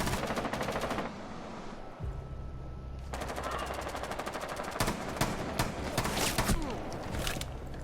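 Rapid gunfire from a shotgun in a video game, heard as repeated sharp shots in fast bursts with short pauses between them. Faint footsteps and game ambience sit beneath the shooting.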